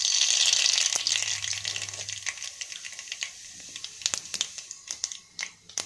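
Cumin and mustard seeds hit hot sunflower oil in a pan, a bright steady sizzle that settles into crisp popping and crackling as the seeds fry, close up with no talking.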